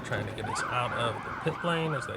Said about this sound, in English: now you can hear the horns in the background with the sirens as well